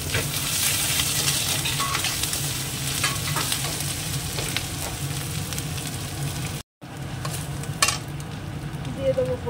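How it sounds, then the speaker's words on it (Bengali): Grated coconut and ginger fry in a pan with a dense, steady sizzle and occasional stirring scrapes and clinks, briefly cut off near the end before resuming. "একটু ভেজে নেবো নারকেলটাকে লাল করে।"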